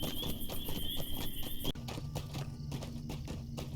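Horse hoofbeats in a video game ride, a steady close clip-clop rhythm of repeated hooves over ambient game sound, with a brief high tone early on and no speech.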